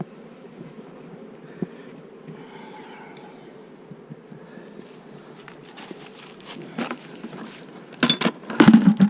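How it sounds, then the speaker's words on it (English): Continuous droning of numerous bees in flight nearby, with scattered handling clicks and knocks growing louder toward the end. "The bees are flying very good today."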